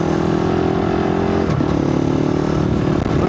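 A motorcycle ridden through the desert during its break-in, sprocket recently changed, a loud continuous engine drone close up with a brief shift in pitch midway and steady rumble throughout, no voices.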